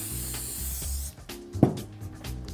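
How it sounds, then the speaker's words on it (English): Spray adhesive sprayed from a can onto a wooden board while building a fuzzy stool, heard as short close hissing bursts mixed with a few handling knocks and rubs. "Give a nice even coat of spray adhesive to the board"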